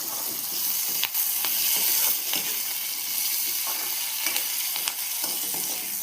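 Onions frying in hot oil in a pan for an Odia potato masala dish, with a continuous close sizzle broken by a few sharp crackles and stirring clicks, and no voices.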